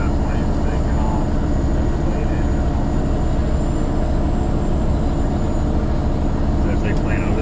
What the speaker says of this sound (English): Maybe where that plane's taking off.